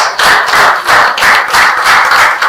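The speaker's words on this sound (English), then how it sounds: "With a round of applause" Close, loud rhythmic clapping at a fashion law and business conference, welcoming a speaker, with steady even beats and no talk.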